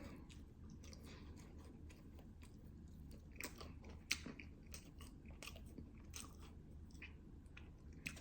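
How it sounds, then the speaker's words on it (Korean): Close, soft chewing of french fries with a burger meal, steady moist mastication punctuated by a few sharper crunchy bites, heard alone in a quiet room. "어우 감자튀김 먹기 힘들다"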